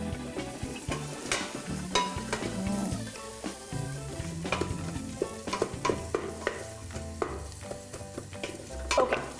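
Mussel broth base with Italian spices and pepper sautéing in a pan, a steady loud sizzle with repeated stirring scrapes and utensil knocks throughout, no talking.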